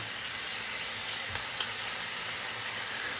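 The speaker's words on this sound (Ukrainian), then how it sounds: "нехай собі підсмажується тут помаленьку" Mini steaks frying in a pan give off a steady, dense sizzle that holds at an even level throughout, with no voices.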